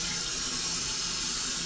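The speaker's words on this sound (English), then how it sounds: "There's water coming through there." Water rushes steadily through a newly fitted toilet filler valve, a continuous, fairly loud hissing flow with no talk over it.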